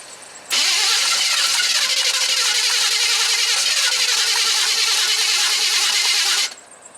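A 1978 vehicle's engine cranking for about six seconds, a loud continuous starter whir that cuts off abruptly without catching, close by with no talking.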